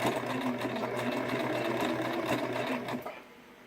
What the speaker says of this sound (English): So I'm stitching a little bit closer to the edge.